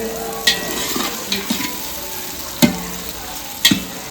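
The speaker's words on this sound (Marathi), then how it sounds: "इकडे ना कांदा टोमॅटो तेजपत्ता वगैरे सर्व फोडणी देऊन घेतलेली आहे." Onion, tomato and bay leaf fry in hot oil as a tempering for chicken curry, sizzling steadily while a spoon stirs with several sharp scrapes against the pan.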